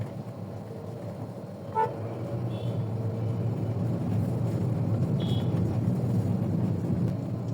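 Heavy Dhaka street traffic on the way to Dhanmondi, with a bus turning in a tight space and a jam building on both sides: a steady, close engine rumble with a brief horn toot near the start and a couple of short honks later.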